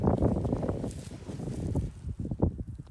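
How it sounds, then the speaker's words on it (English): Wind gusts across a small knoll outdoors during airgun shooting, buffeting the microphone in a steady, rough rumble that swells and dips, with a few sharper bursts near the end. "The wind is kind of gusting through this little knoll right here"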